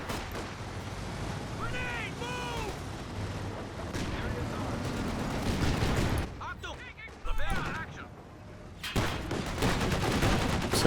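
A .50 cal machine gun fires in Company of Heroes 2 as a flurry of battle gunfire and distant blasts, loud throughout, with swooping tonal game effects and a sharp burst near the end.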